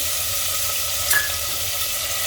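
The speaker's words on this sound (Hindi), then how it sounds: "इसमें डाल देंगे जो हमने ये मेथी और लहसुन पीस के रखी है" Steady soft sizzle of fenugreek and garlic paste frying in hot oil, with a brief brighter crackle midway; no voices.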